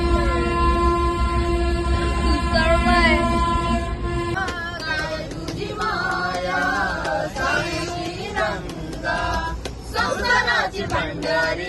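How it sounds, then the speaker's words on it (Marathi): A train, heard from aboard, rumbles along its rails with a sustained horn-like tone at first, then clattering and squealing as passengers chatter nearby. "जाऊन ट्रेनवर बसलोय ट्रेन सुटलंय"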